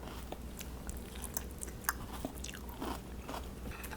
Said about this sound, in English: Let's taste the little piece of chuck roast